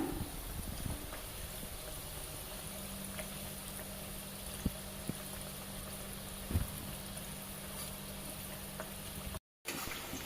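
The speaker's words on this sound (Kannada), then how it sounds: "ಈಗ ಇದನ್ನು ಬ್ರೌನ್ ಕಲರ್ ಬರೋವರೆಗೂ ಫ್ರೈ ಮಾಡೋಣ." Food frying in a pan until it browns in a Malnad-style home kitchen, giving a faint, steady bubbling sizzle that holds evenly throughout with a brief dropout near the end.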